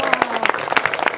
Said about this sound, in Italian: l'applauso alla nostra Rossana Rossomando e naturalmente alla poesia